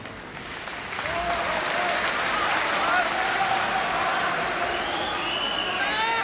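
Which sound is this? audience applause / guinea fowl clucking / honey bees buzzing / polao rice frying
audience applause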